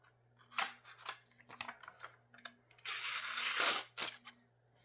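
Kershaw Blur knife blade slicing down the middle of a sheet of paper, giving several short crisp cutting rasps and a longer continuous tearing swish near the end, close to the microphone with a steady low hum underneath.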